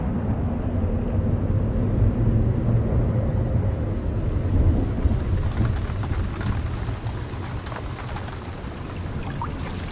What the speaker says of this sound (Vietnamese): Tiếng sấm vang lên từ phía xa và mưa cũng đã đổ xuống.